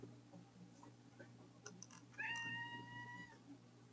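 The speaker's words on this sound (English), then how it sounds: "there's a little cat here now" A small cat gives a single clear, drawn-out meow close to the microphone in an otherwise quiet indoor room, preceded by faint ticking and light handling noise.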